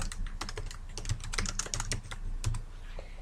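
A name being typed on a computer keyboard: a quick, uneven run of close, crisp key clicks with a few heavier strikes, alone without any speech.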